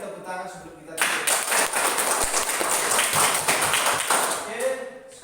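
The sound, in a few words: audience applause in a classroom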